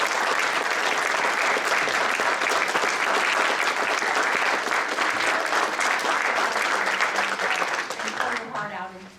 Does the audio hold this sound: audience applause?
yes